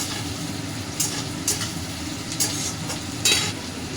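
Onions frying in a pan for a fish-head and taro-leaf dish, giving a continuous soft sizzle with a few sharp spatula scrapes spaced through it; no voices.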